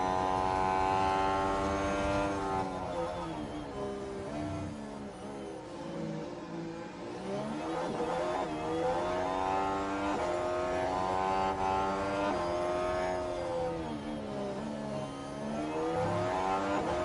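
Several F1 race car engines from the video game F1 Manager 24 scream past at a Montreal circuit, with loud high-pitched whines rising and falling as cars battle through the slipstream, continuous and close, with no talking.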